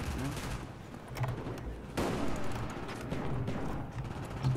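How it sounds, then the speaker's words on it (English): Shotgun blast in Black Ops 1 (PC), a sharp loud report rising out of ongoing game noise and gunfire, with other distant shots around it. "That was a shotgun."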